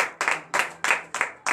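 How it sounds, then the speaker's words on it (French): Congregation at a morning prayer service claps in unison, five loud, evenly spaced rhythmic bursts of collective clapping close by, with no speech over them. "Donnez de vives acclamations à l'Éternel."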